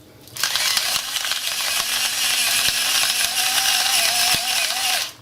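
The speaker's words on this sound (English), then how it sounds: "I am now going to grind my peppers and my garlic into a fine paste" Hot peppers, garlic and salt ground into a paste make a steady gritty scraping and rattling that runs continuously for about five seconds, close and fairly loud, with no talk over it.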